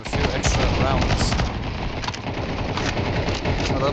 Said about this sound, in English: A lot of gunfire is going into that B